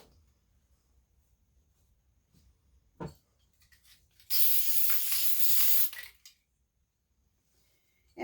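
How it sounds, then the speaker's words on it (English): A spray can of adhesive hisses in one steady burst lasting under two seconds while fabric layers for a Christmas table runner are spray basted, with a single soft knock beforehand and quiet room tone around it. "I like to spray baste."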